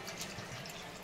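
Water pours steadily into a pan of spicy potato and tomato curry, a soft continuous splashing rush that carries on alone with no voices.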